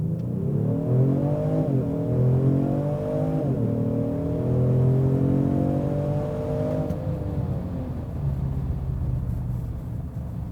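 A 2020 Genesis G70 3.3T AWD in sport mode launches hard from a standstill, engine pitch climbing steadily through several gears with brief dips at each shift, a loud, smooth, close-up cabin roar with no talking.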